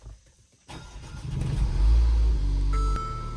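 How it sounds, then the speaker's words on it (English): A Mercedes GLA 250 engine cranks and catches, then settles into a loud, steady idle rumble close by. No one speaks. "So start the car"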